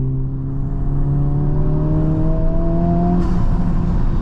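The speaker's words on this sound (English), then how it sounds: "Immediately you notice two things. One is the very annoying fake engine noise." Synthetic engine sound piped into the cabin of a Honda Civic Type R, a steady droning hum with a slowly rising pitch, loud and continuous throughout with no talking.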